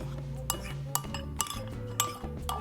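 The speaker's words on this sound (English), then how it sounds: "So last thing for the sauce really is I'm going to stir it up" A utensil stirs sauce for crab mac and cheese in a metal pot, giving a series of sharp clinks and scrapes about every half second over a low background hum.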